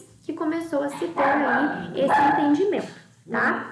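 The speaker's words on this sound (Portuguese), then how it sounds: "Perdão pelo cachorro." A dog barks and yips in short bursts in the background while someone speaks Portuguese in a lecture, the barks partly masked by her continuous talk.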